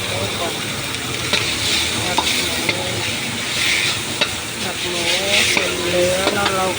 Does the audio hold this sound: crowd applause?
no